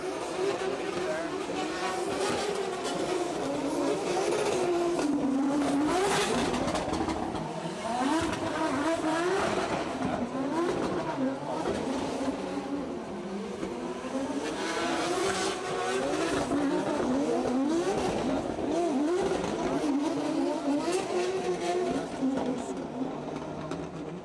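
Drift cars slide through corners at an IPDC drift competition, with engines roaring and revving and tires squealing continuously for the whole stretch, while a commentator talks over the noise.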